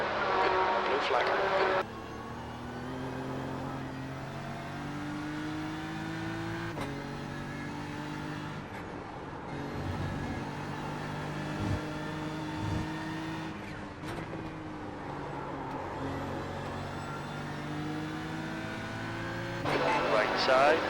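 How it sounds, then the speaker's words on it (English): A GT3 car in an IMSA sim race at Watkins Glen howls through repeated upshifts and downshifts over about twenty seconds. A group of faster race cars swells louder at the start and end as they pass. "There's a group of faster cars behind."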